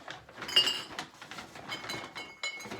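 A glass jar of pickled okra is handled in a basement recycling setup, giving faint, scattered clinks and small rattles of glass, close and quiet, with no talking.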